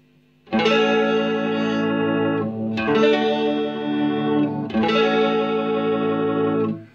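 Electric guitar played through a Fender Super Champ XD amp with the Vibratone effect, three long sustained chords ringing with a swirling, wavering rotary shimmer, loud and close with no talk.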